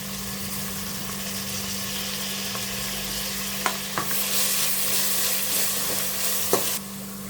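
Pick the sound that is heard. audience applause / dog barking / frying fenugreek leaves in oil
frying fenugreek leaves in oil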